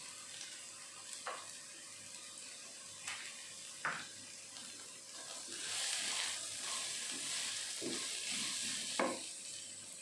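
Carrots stir-fried in a pan sizzle faintly beneath intermittent scraping and clinking of a spatula, with brief watery splashes near the end.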